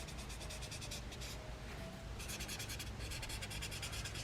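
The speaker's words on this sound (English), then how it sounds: "I'm going to smudge a little bit past our boundary point" A finger rubs softly across graphite pencil shading on paper, a faint, steady hushed scratching that comes in back-and-forth strokes with brief pauses, heard alone.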